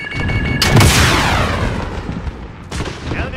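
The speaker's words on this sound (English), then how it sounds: "Allied cluster strike incoming." Cluster strike explosions in Call of Duty Modern Warfare (2019) deathmatch: a heavy booming blast with a long rumbling tail, then a second sharp blast near the end, loud and close amid battle noise.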